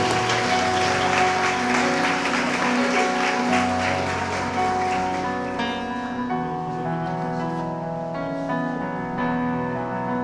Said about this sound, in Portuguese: Aplauda Cristo pela vida deles.